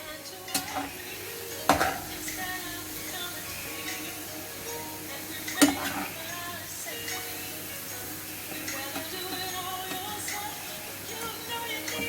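Metal utensils clink and scrape against a pan while lifting fried chicken nuggets out of oil, amid a soft background sizzle, with a couple of sharper clanks standing out.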